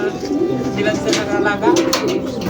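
Racing pigeons arriving at the loft after a 183 km old-bird derby lap coo softly close by while someone talks over them.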